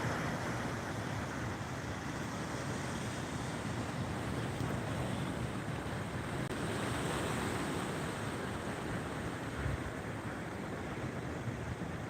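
Ocean surf rolls onto the shore in a steady, continuous wash, mixed with heavy wind buffeting the microphone and no talking.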